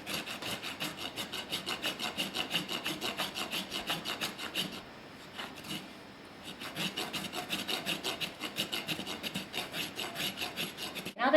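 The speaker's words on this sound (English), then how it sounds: "Dale's just doing the filing for me here." A rasp filing down a horse's hoof during rehab trimming, with steady rhythmic back-and-forth rasping strokes, close and clear, briefly pausing midway before the strokes resume, no talking.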